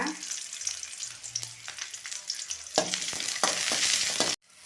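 Onion, garlic and torn tamarind fry in a pan for gram dal chutney, a steady close sizzle with scattered stirring scrapes and low clunks, ending abruptly.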